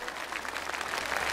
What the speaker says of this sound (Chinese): 再次把掌声送给我们的表演者